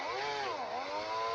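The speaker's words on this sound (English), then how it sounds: "we're going to drill down into the car" Power drill whining steadily as it bores a pilot hole into a car body, a close, continuous motor tone that dips in pitch under load and then climbs back, with no voices.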